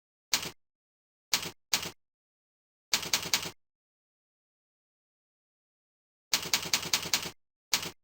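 Keys tapped on a computer keyboard while writing Visual Basic code, short bursts of crisp clicks separated by long silences, close and quiet.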